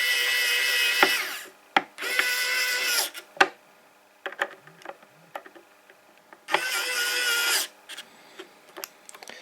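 A Xiaomi Wowstick 1F+ precision electric screwdriver whirs in three short high-pitched bursts, close and clear, separated by quiet gaps filled with small clicks and handling taps.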